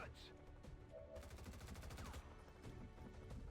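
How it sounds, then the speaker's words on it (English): A light machine gun in XCOM 2 Long War of the Chosen rattles off a rapid sustained burst of evenly paced shots with a deep bassy body, close and moderately loud, with game sounds around it. "See how much cooler that LMG sound is"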